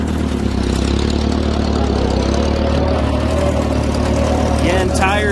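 A Ford NAA tractor engine runs steadily at a low, continuous idle-like drone throughout, close and constant, with no one talking over it.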